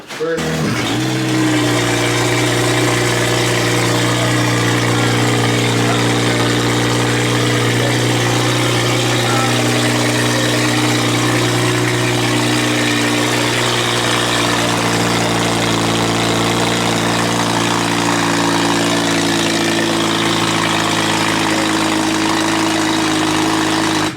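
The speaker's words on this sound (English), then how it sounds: "Customer engine just started." A car engine idles continuously with a steady low hum and rumble, loud and close, unchanging throughout.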